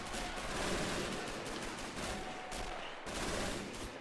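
Sustained burst of German MG42 machine gun fire in a World War II video game battle at Pegasus Bridge, dense rattling gunfire continuing steadily throughout with a brief break near the middle.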